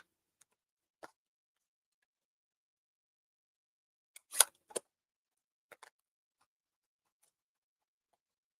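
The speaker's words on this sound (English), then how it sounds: "So now we can get that tree cut out." Scissors snip out a stamped paper tree shape in a quiet room, a handful of faint, crisp clicks scattered across the stretch, with a small close cluster of louder snips near the middle.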